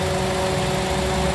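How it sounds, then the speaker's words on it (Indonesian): Honda Brio Satya 1.2 with manual gearbox, a 2017 model, idling smoothly at close range, giving a steady, even engine hum with a low rumble and no talk over it. "Mesin nggak ada kendala teman-teman, masih halus banget"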